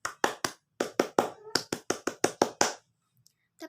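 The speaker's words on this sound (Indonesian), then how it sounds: "Tepuk pramuka." A group performs a Pramuka scout clap pattern in rhythmic bursts: quick sets of sharp, close claps with short pauses between groups, then silence with one faint final tap.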